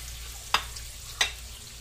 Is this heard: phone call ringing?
no